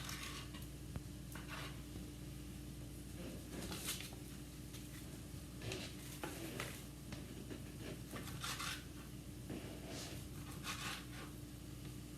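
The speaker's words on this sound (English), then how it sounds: "get them into the pot, get everything nice and brown" Sausage links cut into thirds browning in a pot for a Sunday sauce, a faint steady sizzle with occasional stirring scrapes and utensil clinks against the pot.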